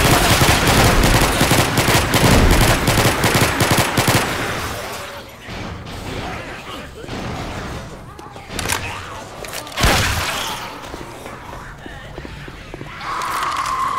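Rapid rifle gunfire from the zombie shooter Left 4 Dead 2, a dense burst of shots for about four seconds followed by scattered single shots and in-game chaos, loud and close, with voices talking over it.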